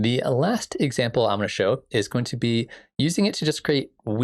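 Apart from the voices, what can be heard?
No everyday noises stand out.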